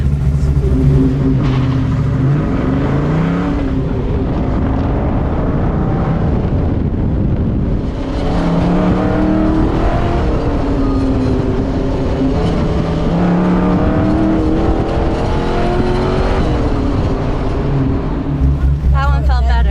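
A car engine drones loudly and rises through its revs during an autocross run at a 2023 event, with strong wind buffeting the microphone, and a driver talks over the noise throughout.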